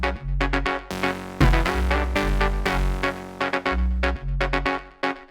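Crisp synth chords with the low end filtered out, bright and airy on top, in an Afro House production; short rhythmic stabs and sustained hits in a steady groove over a kick pattern.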